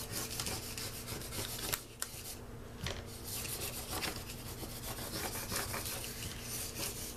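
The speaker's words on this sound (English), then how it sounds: "and squeegee the back." A squeegee rubs steadily across the back of a car magnet during crafting, a continuous close scraping rasp with a few brief louder catches and no talk.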